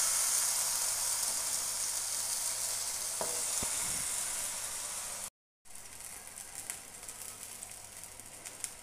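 Brinjal slices fry in hot oil with a steady, bright sizzle. A couple of soft clinks come partway through, then the sizzle cuts out briefly and resumes just as strongly.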